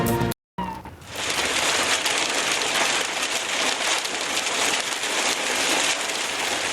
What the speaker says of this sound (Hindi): पानी ही पानी और बारिश